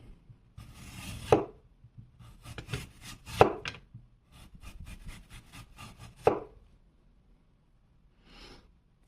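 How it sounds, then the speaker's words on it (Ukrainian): Ganzo G769-BK folding knife slicing through an apple, several crisp crunching cuts with wet scraping strokes in bursts, close and clear, then a short faint scrape at the end, no voices. "ніж дуже гарно ріже"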